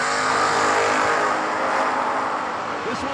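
A Camaro and a Mustang launching side by side at a drag strip, engines roaring loud and sustained over crowd and track ambience.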